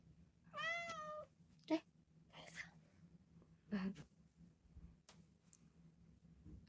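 A cat gives a clear, wavering meow near the start, followed by a few softer chirps and faint sounds in a quiet room, with whispered speech.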